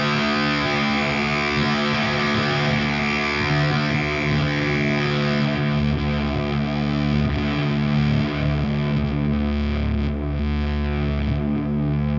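Electric guitar pushed through a Fuzzrocious Croak pedal gives a thick, buzzing fuzz with a metallic ring-modulator edge, sustained and loud throughout, with no talking.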